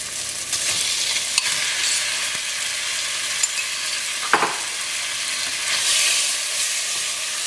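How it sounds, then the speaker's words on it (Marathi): Pork stirred and fried on high flame with softened onions and tomatoes for a Goan meat stew, a continuous loud sizzle broken by scraping stirs and occasional sharp clanks of a utensil against the pan. "हाय फ्लेमीचेर आमी हे मांस स्टर करू."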